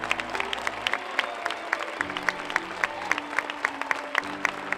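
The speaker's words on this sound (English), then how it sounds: "please stand and let's honor our PA, our announcer, with a big round of applause" A standing audience at a school sports event applauds their longtime PA announcer, steady clapping that swells with sharp individual claps over a low background hum, no talking heard.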